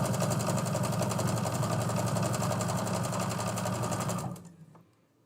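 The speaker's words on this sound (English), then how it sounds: "in this project, we actually start sewing right away" A sewing machine stitches quilt fabric from a jelly roll, running in a fast, steady rhythmic whir close by for about four seconds before stopping abruptly.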